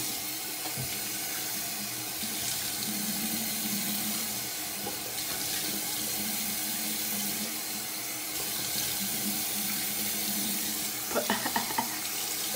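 Tap water running steadily into a sink during rinsing, a continuous close splashing hiss with faint handling clatter near the end.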